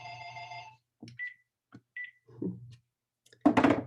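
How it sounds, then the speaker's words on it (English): A telephone rings with a steady electronic tone that stops after about half a second, followed by a few short beeps and tones, then a louder noisy burst at the end, all close and free of talk. "Didn't anticipate that phone ringing."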